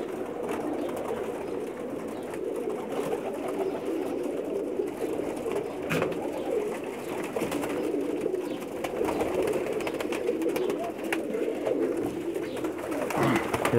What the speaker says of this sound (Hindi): एक बटेरा कबूतर है जी